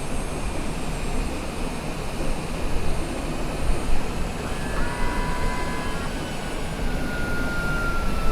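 A Cessna Citation Longitude on landing approach in a flight simulator gives a loud, steady jet engine roar with a thin whine, continuous and close, with no talking.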